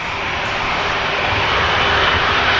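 A Virgin Atlantic airliner roars on the runway at Manchester Airport, bound for Atlanta, a loud, broad engine rumble that swells slightly and holds steady throughout, with no voices over it.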